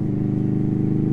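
Bobber motorcycle exhaust throbs loudly and steadily while riding, a deep, even pulsing engine note heard close with no talking.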